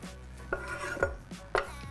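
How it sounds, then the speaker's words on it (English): A knife chops fresh chili finely on a cutting board, sharp knocks landing at a steady, slightly uneven rhythm, close and fairly quiet with no talking. "So just chop it kind of as fine as you like, preferably finer."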